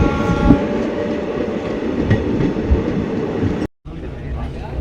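A train rolls through the Kashmir valley between Srinagar and Banihal, its steady, close rumble and wheel clatter filling the space, with a brief dropout near the end.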